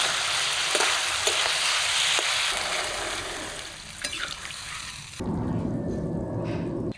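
Cauliflower and potato with ground spice paste sizzle steadily in a pan for a koi fish curry, then the tone shifts to a softer bubbling simmer once water for the gravy goes in.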